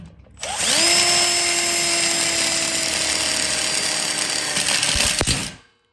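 A power drill drives self-drilling screws through a steel connector plate on a welded split bar for an outdoor kitchen: a loud, steady high whine for about five seconds, ending with a brief clatter, close and alone.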